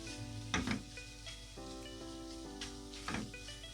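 Gram flour (besan) roasting in a pan for halwa while being stirred continuously with a spoon, soft sizzling with a few scraping stir strokes over a low steady hum, fairly quiet and close.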